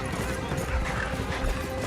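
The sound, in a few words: racehorse galloping in a race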